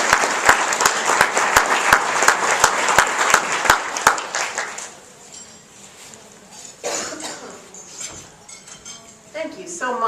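Loud applause from a lunch audience at a green building conference keynote greets the speaker, filling the first five seconds with dense clapping before thinning out. Dishes and cutlery clink and voices murmur underneath as it fades.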